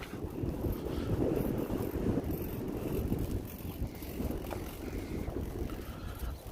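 Wind blows hard outdoors at a model airplane flying field and buffets the microphone as a loud, rumbling low roar that surges and eases throughout. No voices are heard.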